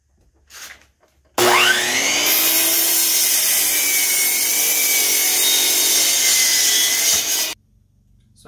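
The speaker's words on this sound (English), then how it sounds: "I just did them on a miter saw" A miter saw spins up with a sharp whine and slices through wood boards for about six seconds, a loud close cut that stops abruptly before winding down.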